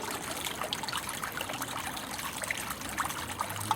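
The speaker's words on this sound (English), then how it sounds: "as you can see, the pond's filling up quite well" Water trickling and splashing steadily into a relined garden pond, a soft continuous babble with small bright drips, fairly quiet and with no voices.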